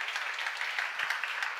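A congregation claps at a church sermon seminar, producing dense, continuous applause at moderate distance with no voice over it.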